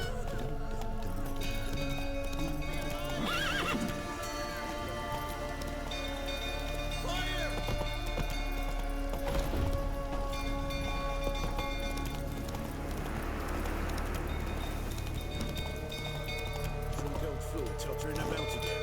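Roach the horse galloping in The Witcher 3, rapid steady hoofbeats running under almost constant talking, with rain-like hiss and game sounds mixed in.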